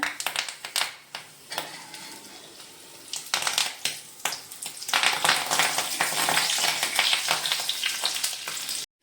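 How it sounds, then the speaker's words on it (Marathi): Curry leaves drop into hot oil with cumin and mustard seeds, starting with sharp separate crackles and spits that swell into a dense, loud, sputtering sizzle, with no voices. "कढीपत्ता भाजून झालाय"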